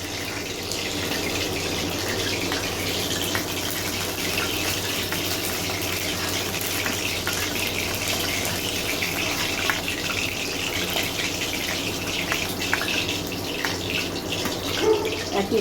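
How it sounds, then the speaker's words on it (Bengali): Chicken pieces for chilli chicken deep-frying in hot oil, a steady loud hiss and crackle running unbroken throughout with no talking. "একইভাবে আমি সমস্ত চিকেনগুলোকে ভেজে নেব।"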